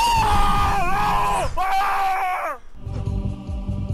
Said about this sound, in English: I didn't know I was gonna scream like that.